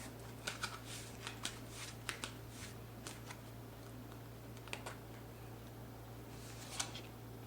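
Tarot cards are shuffled, producing soft, faint riffling clicks at an irregular pace over a steady low hum, with no talking.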